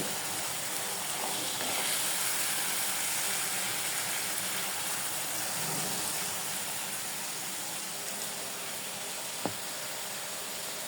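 Mutton kosha braises in a pan, giving off a steady, soft sizzling hiss that carries on evenly throughout, with a single faint click near the end.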